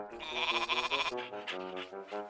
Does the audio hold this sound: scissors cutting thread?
no